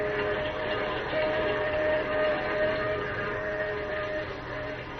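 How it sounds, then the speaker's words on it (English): A train roaring through the night as a radio drama sound effect, heard as a steady, muffled rumble and rattle with a faint tonal hum running underneath, with no voices. "As the train roars into the night, he and Manfred talk softly outside the door"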